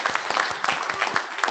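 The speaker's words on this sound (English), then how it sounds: "Please applaud." Audience clapping at an internet standards meeting session of lightning talks, a short close burst of hands with individual claps audible in a brisk rhythm.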